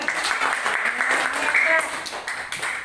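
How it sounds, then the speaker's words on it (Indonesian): Brief classroom applause for a pupil, a short burst of clapping from a small group of students, close and moderately loud, with voices and chatter mixed in. "Tepuk tangan untuk Fahri."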